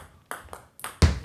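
A table tennis ball is struck on a low backspin pendulum serve, giving several short, sharp pings spaced irregularly within about a second, close and clear with no talking.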